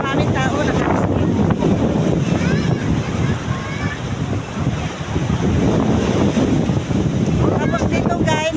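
Strong wind and heavy waves make a loud, steady roar with surging washes that hold for the whole stretch, and faint voices come through now and then.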